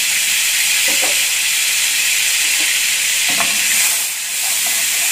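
Ordinary margarine sizzles in a hot pan for a curry dish, a loud, steady, broad frying hiss with a few faint clinks of stirring and no speech.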